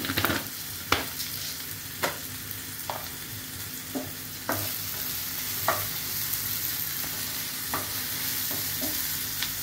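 Cumin seeds sizzle in hot oil as a continuous close frying hiss, punctuated by a dozen sharp scraping clicks from a stirring utensil against the pot, with no talking.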